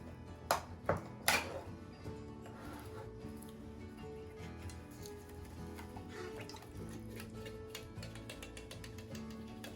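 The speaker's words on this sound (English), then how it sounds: "I'm gonna go ahead and open up my apple pie filling." A can of apple pie filling is opened with a few sharp clicks and a ratcheting mechanical grind, followed by soft wet sounds as the filling is poured into a baking dish.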